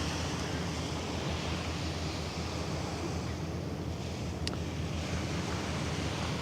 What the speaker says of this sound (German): Oh, und jetzt kommt die Welle von der Fähre an.